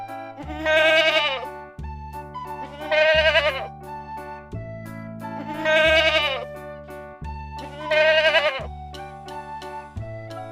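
A young goat bleats four times in long, wavering cries at an even pace, each call loud and near, with a simple tune playing underneath.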